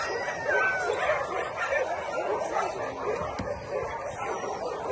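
Several injured rescued dogs of mixed ages bark, yip and whimper in overlapping bursts close by, with faint voices underneath.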